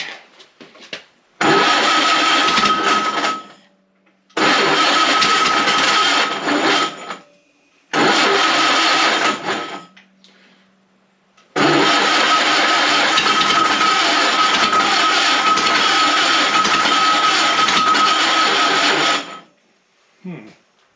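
A junk Ford Model A engine with a suspect carburetor cranks on a weakening battery: four loud, close bursts of starter grinding separated by pauses, the last one the longest.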